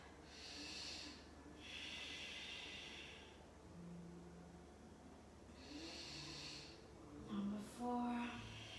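Slow, deep breaths during an Ashtanga yoga session, each long airy inhale and exhale a soft breathy hiss at a steady even pace, faint and close against a quiet room hum, with a few breaths sounding nasal and snort-like.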